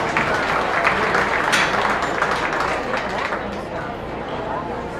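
Applause for youth exhibitors at a county beef cattle show, a broad, steady crowd clapping that fills the clip and eases slightly toward the end, with voices chattering underneath.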